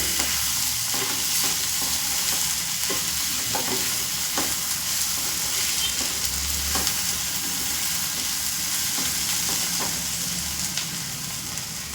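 Veg puff filling with chilli powder, turmeric and coriander powder fries with a constant close sizzle in a pan on medium flame, with soft scraping stirs throughout and no talking.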